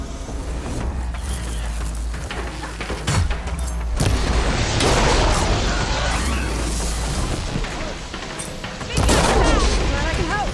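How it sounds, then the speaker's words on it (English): Shotgun fire in Horizon Forbidden West: several loud, sharp blasts at irregular intervals within a dense, noisy game-combat mix. "shotgun."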